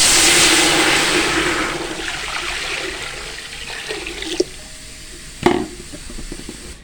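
Water poured from a tap into a cooking pot set on the stove for boiling rice, a loud steady gushing that fades out, followed by a couple of sharp metallic clanks.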